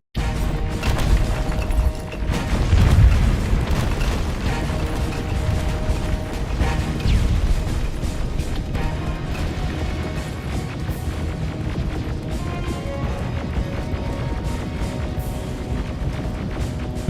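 Rocket explosions in the first-person shooter Terminator: Resistance: a dense, loud, continuous wall of booming blasts and rumbling debris, with a heavier impact early on and no voices.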